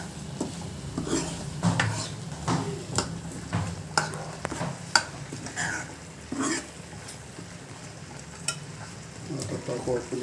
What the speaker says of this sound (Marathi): मसाल्यामध्ये पूर्ण शेंगा मिक्स करून घ्यायच्या, म्हणजे जेणेकरून तो मसाला पूर्ण शेंगामध्ये मुरला पाहिजे